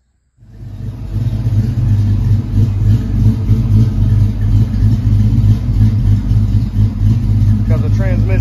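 A turbocharged Ford Cobra's engine starts up after a new transmission is fitted and keeps running with a loud, steady low rumble close by.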